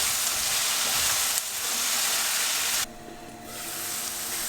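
Potatoes fry with spices and fenugreek leaves in a pan for an aloo methi curry, a loud close sizzle and hiss that drops abruptly partway through, then continues more softly, with no talk.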